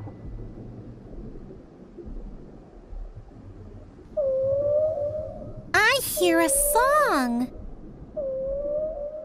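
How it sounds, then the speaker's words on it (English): A humpback whale song: long, sweeping tonal moans that rise and fall, with a burst of layered upward swoops in the middle, heard over a low rumbling background. "Humpback whales make lots of sounds. Males even sing songs."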